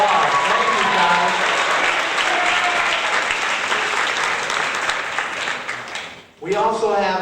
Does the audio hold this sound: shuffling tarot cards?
no